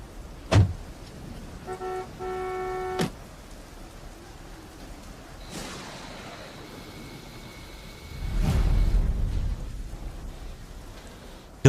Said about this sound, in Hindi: देखो बाहर कितनी बारिश हो रही है